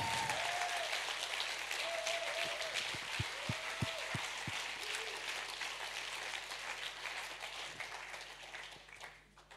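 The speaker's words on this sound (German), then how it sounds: "wir geben mal unseren Technikern einen fetten Applaus" A church audience gives a loud round of applause for the technicians, thick continuous clapping that slowly fades out, with a few sharp thumps near the start.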